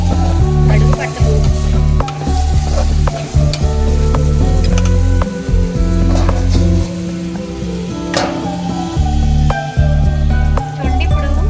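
Onions frying with salt in a pan for mutton drumstick curry, a loud, continuous sizzle with frequent stirring scrapes and clinks throughout, close up and without talk.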